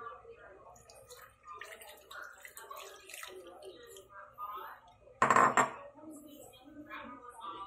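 A person talks while the marinade mixture for chicken adobo goes into a pan, ending in a short, loud splash and clatter of liquid against metal near the end.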